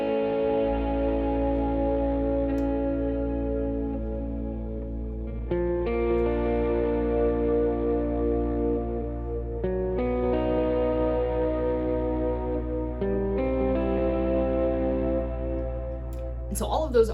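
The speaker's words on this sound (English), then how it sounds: "if you're playing those clean or with some reverb and delay, it's going to sound really nice and really pretty ambient." Clean electric guitar chords ring out with reverb and delay, struck about every four seconds, each chord sustaining into a long ambient wash over a steady low hum.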